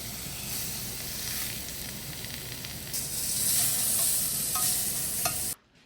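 Pork loin coated in a sugary dry rub sears in a very hot pan with olive oil, giving a loud, steady sizzle that swells and brightens partway through, with a few clinks, then cuts off abruptly at the end.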